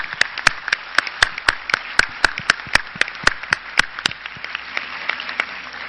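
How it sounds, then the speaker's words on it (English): A small audience applauds after a professor's lecture on entrepreneurship among the poor. The clapping is sparse and distinct, with individual claps in a steady, moderately paced rhythm that carries on at an even level for several seconds. "We should give him a big round of applause for a wonderful talk."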